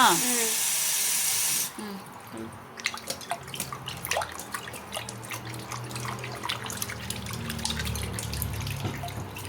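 Hands washed under a running kitchen tap: a steady gush of water at the start gives way to splashing and dripping, with a voice talking nearby.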